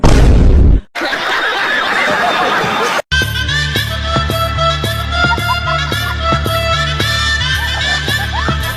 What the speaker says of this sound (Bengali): পিঁপড়া বমটাকে ফেলে দিয়ে দৌড় দেয়।